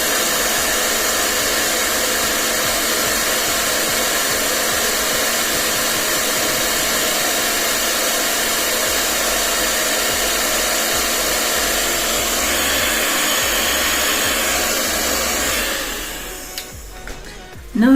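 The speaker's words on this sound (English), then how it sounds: "But I need my blow dryer." A hair dryer blows steadily with a loud, constant whooshing roar that runs unbroken for a long stretch before cutting off near the end.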